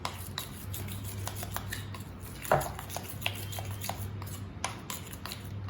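Melted chocolate being stirred in a bowl with a spoon, giving a run of light scraping and clinking contacts against the bowl and one louder knock midway. A low steady hum runs underneath, with no talk.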